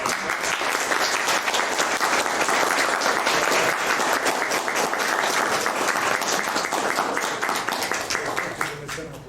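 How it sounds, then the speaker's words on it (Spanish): Lecture audience applauding a talk on the main square of old Cusco: a loud, sustained wash of many hands clapping together, steady for several seconds before thinning slightly near the end. "Un voto de aplauso."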